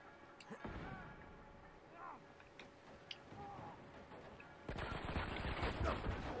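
Gunfire from an Uncharted 2 multiplayer video game match, with scattered shots and a denser burst of rapid fire near the end under constant background game noise and some voice.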